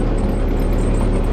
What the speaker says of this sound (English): we're out here on Mom's tractor